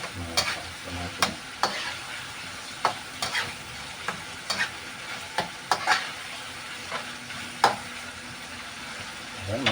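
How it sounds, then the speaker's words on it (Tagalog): Food being stirred in a sizzling frying pan, with repeated sharp scraping clicks of the utensil at an irregular rhythm over a steady, close-up frying hiss. "Haluin natin mga paps"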